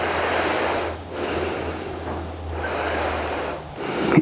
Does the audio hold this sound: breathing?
yes